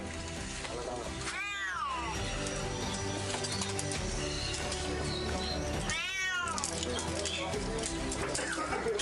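A rescued cat, freshly pulled alive from a well after a 45-minute evacuation, meows twice, several seconds apart, loud and near over a steady background of noise.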